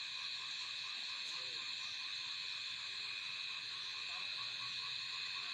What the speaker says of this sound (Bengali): চারিদিকে ঝিঝি পোকা ডেকেই চলেছে।